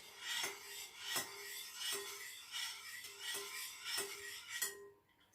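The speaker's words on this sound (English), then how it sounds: "Then you get a spoon and you just stir it." A spoon stirs a homemade carrot oil beauty mixture in a container, scraping and rasping in about seven even, regular strokes, close and quiet, with no talking.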